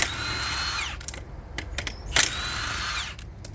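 A power tool spins off the wheel nuts on a Ford Transit van, in two loud whirring bursts with a brief gap of clicks and knocks between them, close up.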